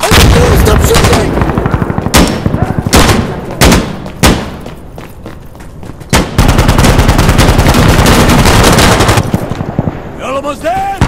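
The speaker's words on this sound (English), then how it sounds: "Stop shooting!" Dense, loud gunfire in the tactical shooter Insurgency: Sandstorm, with rapid automatic bursts and heavy booming shots in close succession, broken by brief pauses, while a voice shouts over the din.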